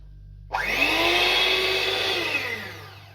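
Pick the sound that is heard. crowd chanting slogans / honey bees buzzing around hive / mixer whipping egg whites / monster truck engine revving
mixer whipping egg whites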